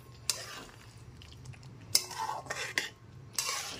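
Fried pointed gourd pieces are stirred with spices in a pan over a medium flame, with a few sharp metallic spoon clinks and scrapes above a soft, quiet sizzle, and no speech.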